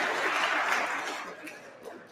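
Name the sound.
audience applause for EFF members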